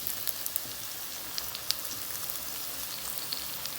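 Pumpkin bonda fritters frying in oil over a medium gas flame, a steady bright sizzle with small scattered pops and crackles and no voices.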